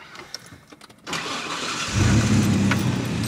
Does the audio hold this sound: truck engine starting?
yes